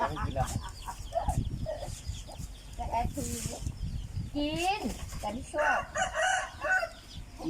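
Chickens cluck and a rooster crows outdoors in a Thai village yard, the fowl calls rising in bursts under ongoing talk.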